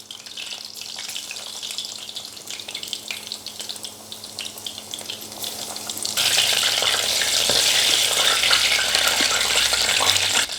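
A new batch of karaage chicken drops into hot oil, and the gentle bubbling jumps to a loud, dense, steady frying sizzle for the rest of the clip, close up with no talking.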